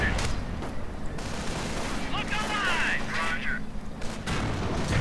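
Tank cannon and anti-tank gunfire in a WWII strategy video game, with an M26 Pershing firing on Panzergrenadiers; dense continuous battle noise with booms and whistling shell sounds under a steady din.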